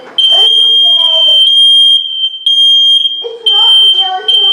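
A First Alert smoke alarm blares a loud, steady high-pitched tone in a home, broken by a recorded voice announcing fire in the kitchen and calling to evacuate.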